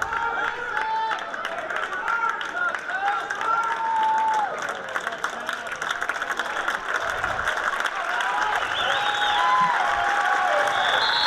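A home crowd at a Big Ten college wrestling match applauds steadily for two 141-pound wrestlers, the clapping sustained and fairly loud beneath an announcer talking over it.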